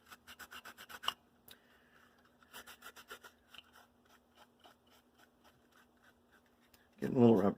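An orange microfiber cloth rubs primer on a painted miniature in short rapid bursts of close, dry scratchy strokes separated by pauses, ending with a brief louder burst.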